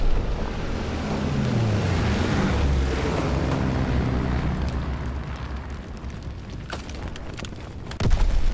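A loud, sustained rumbling blast from an Azon bomb in the Call of Duty WW2 shooter, a low roar rolling on for several seconds before fading, followed by a sharp closing boom; no talk.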